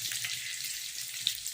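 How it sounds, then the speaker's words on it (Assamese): Onion fries in oil in a pan while pork is being cooked, producing a soft, continuous hiss of sizzling at low volume with a small pop near the end. "পিঁয়াজটো তেলত ভাজি হৈ আছে"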